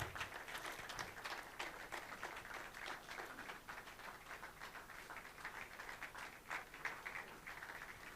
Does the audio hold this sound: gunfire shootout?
no